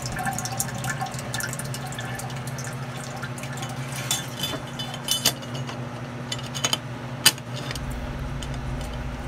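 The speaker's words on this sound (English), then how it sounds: "And when the float goes up, the fan and heating elements turn on and start distilling the water." Water pours and drips steadily inside a Durastill 30J automatic water distiller, close by, with occasional light clinks and a low mechanical hum underneath.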